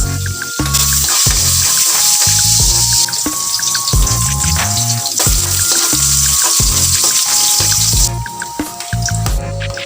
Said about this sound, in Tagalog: Mainit na yung mantika, ilagay ko na tong 1 sibuyas.